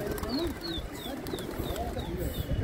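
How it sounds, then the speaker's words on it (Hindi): Pigeons kept by a pigeon fancier in Meerut coo softly in repeated low throaty calls, mixed with a faint higher chirp, while someone talks over them outdoors. "ये कबूतर खुल गए अय्यूब भाई के काले चांद ने।"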